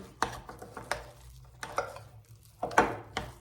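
A spoon stirs a potato cake mixture in a bowl, several distinct knocks and scrapes in irregular bursts separated by quiet gaps, close and with no voices.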